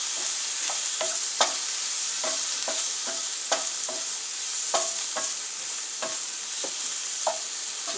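Shrimp fry in a pan for a quick cook, a continuous sizzle broken by regular light scrapes and taps of a utensil stirring them, close but moderately quiet.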